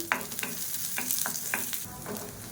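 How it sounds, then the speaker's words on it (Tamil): Onions sauté in a pan while a spoon stirs them, giving a steady soft sizzle broken by a series of distinct scraping strokes at a loose, regular pace, close and moderately quiet. "சேர்த்துட்டு லைட்டாக கோல்டன் கலர் வர அளவுக்கு வதக்கிக்கணும்."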